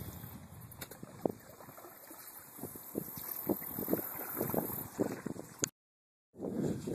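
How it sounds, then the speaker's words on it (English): A canoe paddled along a shallow river, with repeated soft water swishes and splashes from paddle strokes in an irregular rhythm over steady wind noise, cutting out briefly near the end. "we're gonna paddle for an hour and see where that gets us"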